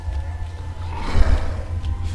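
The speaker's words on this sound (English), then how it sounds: "that's the sound of an alien." A monstrous alien creature from the video game Alien: Isolation lets out a loud, rough, drawn-out roar over a deep rumbling game soundtrack, swelling midway through.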